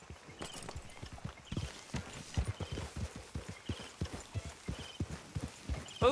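Horse hooves clip-clop at a steady walking rhythm in the Red Dead Redemption 2 video game, close and clear with soft ambient background.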